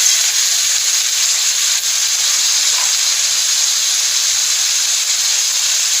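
Whole spices and two Byadgi chillies tempering in hot oil for sambar, with kasuri methi added, give a steady, loud high sizzle that stays unbroken throughout with no talking.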